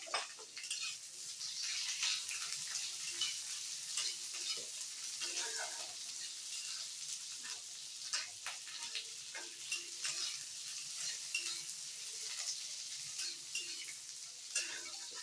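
Onions sizzling in a pan with green chillies for tomato pachadi, a steady soft frying hiss with frequent clinks and scrapes of a spoon stirring against the pan.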